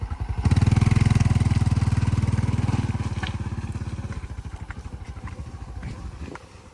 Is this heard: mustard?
no